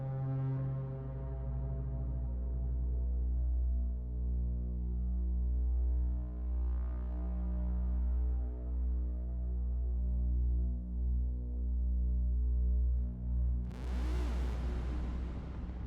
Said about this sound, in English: we got some distortion, we got a nice little drone here